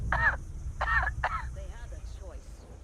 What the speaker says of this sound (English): that cough is really getting on my nerves